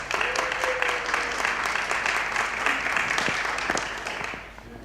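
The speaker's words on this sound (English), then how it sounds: "Can we give her a round of applause?" An audience at a special education conference breaks into steady applause as a speaker comes up, a dense wash of clapping with a faint voice early on, fading out at the end.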